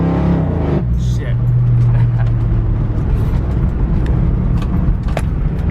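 A Ford Mustang Foxbody, still running without an upgraded camshaft, pulls hard with a loud, steady engine roar from start to finish, with a brief voice near the beginning.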